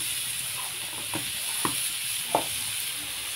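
Chopped tomato fries in a pan for a chicken snack dish, giving a soft, steady sizzle with a few faint pops and stirring scrapes.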